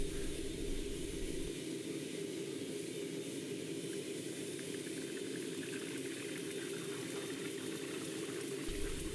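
An egg cooks on an extremely hot frying pan, giving a steady, dense sizzling hiss that holds at an even level throughout, close and continuous with no talk.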